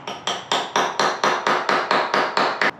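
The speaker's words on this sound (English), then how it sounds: "just kind of tap it a few times with the hammer" A hammer taps a hole saw bit to start a centered hole, about eleven quick, even, sharp metallic knocks in a steady rhythm, loud and close with no talking.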